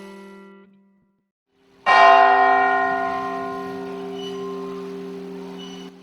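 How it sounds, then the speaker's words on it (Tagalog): The bell of Daraga church, at the foot of Mayon volcano, strikes once, loud and near, and its rich ringing hum decays slowly over several seconds, following a fainter earlier tolling tail. "Ilang siglo nang nagsisilbing babala ng panganib ang kampana ng simbahan ng Daraga."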